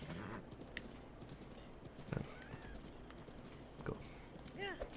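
Hooves clip-clop from a horse in Breath of the Wild, with a rhythmic patter of steps across the clip, a short whinny near the end, and a voice talking over the gameplay sounds.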